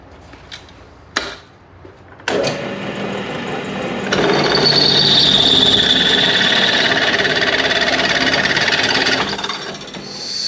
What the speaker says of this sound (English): I'm gonna get my drill all chucked up with a 1/2 inch bit